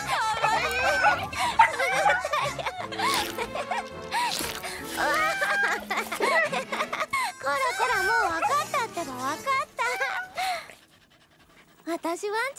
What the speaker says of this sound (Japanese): 私、ワンちゃんにこんなにキスされたの初めて。